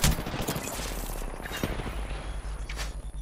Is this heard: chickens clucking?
no